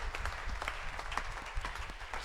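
Steady applause from an audience at a church year-end program, continuous clapping from many hands, moderately loud and close.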